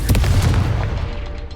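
A Confringo blasting spell goes off in Hogwarts Legacy as a single loud, close burst with a deep boom that rumbles and fades over about a second.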